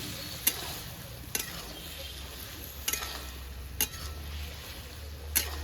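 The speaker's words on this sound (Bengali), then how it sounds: "আলু দিয়ে একসাথে কষাবো মাংসটা।" Chicken pieces stir-fried together with cut potatoes in a pan for a Bengali chicken lemon rice dish, a steady low sizzle with a few sharp scraping stirs of the spatula spaced through it.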